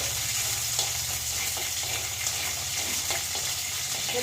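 Shallots frying in a pan give a steady, close sizzle with faint crackles, continuous and even throughout, with no talking.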